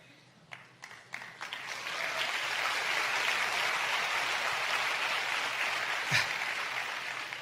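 An audience at a talk claps: a few isolated claps come first, then steady, moderately loud applause that continues to the end.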